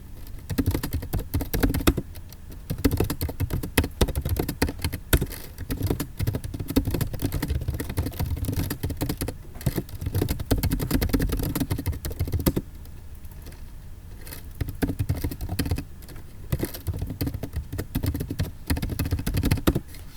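Fast, continuous typing on a computer keyboard while writing C code, close-up patter of keystrokes in quick bursts with a few brief pauses.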